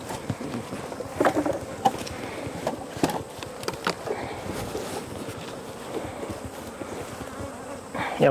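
A dense, steady buzz of many honeybees swarming around a queenless hive with laying workers, continuous and close, with wind buffeting and occasional louder passes.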